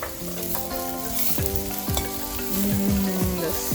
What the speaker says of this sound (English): So our onion is sauteing for about a minute now.